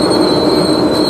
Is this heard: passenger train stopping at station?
yes